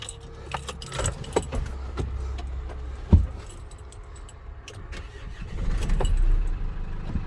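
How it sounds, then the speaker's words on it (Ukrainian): A 2019 Renault Master van with a hydraulic tail lift is started: keys jangle, the starter whirs, and the engine catches and settles into a steady idle, close and fairly loud. "І ми зараз вам цей автомобіль заведемо."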